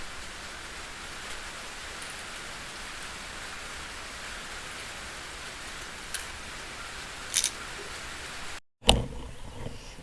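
Steady rain falling outdoors around a chicken coop, a continuous soft hiss of drops that keeps an even level throughout, with a couple of brief knocks and a sharp clatter near the end.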